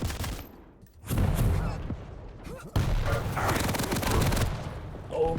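Rocket launcher fire in a competitive video game finals match: two loud, blasting bursts of weapon fire and explosions, with quieter game noise between them and brief talk.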